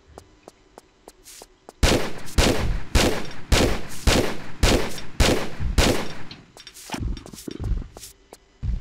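Loud, booming gunshots during a boss fight in the video game Tomb Raider III fire in a rapid irregular series over a low rumble, with fainter pops before and after.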